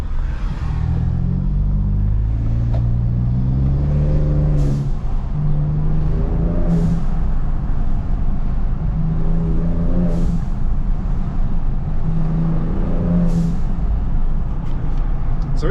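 A Turbosmart blow-off valve on a Next Gen Ranger Raptor in sports mode. A steady engine rumble rises with light throttle, and about three short, sharp whooshes of venting air cut through it at intervals.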